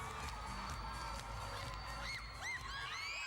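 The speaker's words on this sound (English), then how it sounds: "The crowd like it" A young crowd at a 2011 New Zealand versus England netball match in the Echo Arena, Liverpool, cheering and shrieking from a distance, a steady roar of high-pitched voices with rising whoops.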